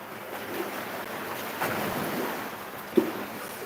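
Ocean waves wash steadily near the water's edge, a broad continuous surf rush with gusty wind on the microphone and a brief sharper splash near the end.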